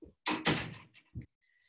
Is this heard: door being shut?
yes